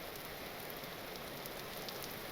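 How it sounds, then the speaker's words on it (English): Steady rain in the video game Vintage Story patters as a soft, even hiss with faint scattered drops, low in level and with no voices. "Oh, it's raining."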